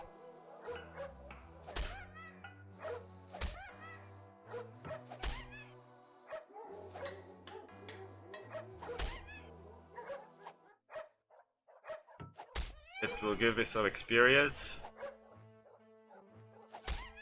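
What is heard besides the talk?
dogs attacking in the video game Konung 3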